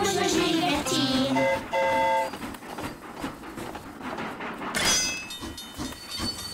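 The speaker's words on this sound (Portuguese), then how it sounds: "Tic-tac, tic-tac, no trem a passear." Cartoon train ride, with a moving train's hiss and rhythmic clatter running under bright whistle-like tones and tune-like notes, steady and moderately loud, with a brief hissing steam burst near the end.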